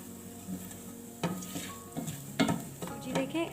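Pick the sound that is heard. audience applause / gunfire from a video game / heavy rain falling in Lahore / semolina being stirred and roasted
semolina being stirred and roasted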